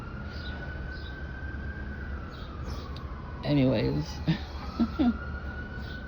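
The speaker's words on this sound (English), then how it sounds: "now we hear the sirens, right?" A distant siren wails steadily in the background, rising and falling slowly, while a person talks briefly nearby and birds chirp faintly.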